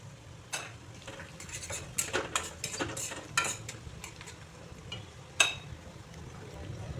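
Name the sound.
onions frying with a little sugar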